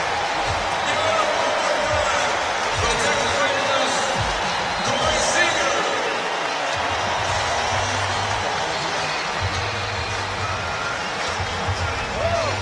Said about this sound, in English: Listen to the crowd for Corey Seager.